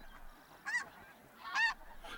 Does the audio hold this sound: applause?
no